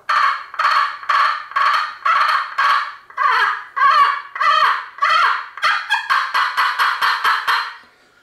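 A slate turkey call scraped by hand for wild turkey hunting, producing a run of raspy yelps in rhythmic bursts, first evenly spaced, then more varied, then quicker and shorter toward the end, loud and close with no talk.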